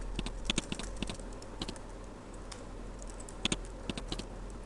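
Keys clatter on a computer keyboard during data entry in accounting software, with quick irregular clusters of taps close by over a low steady hum, with no talking.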